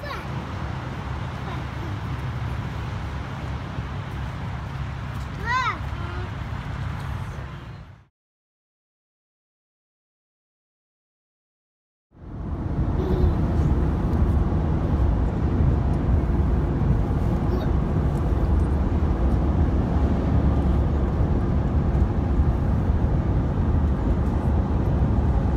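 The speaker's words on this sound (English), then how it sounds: "Start driving again soon." Steady road noise inside a moving car on a drive toward Salt Lake, a continuous low rumble that cuts out briefly and then resumes loudly, with people talking over it.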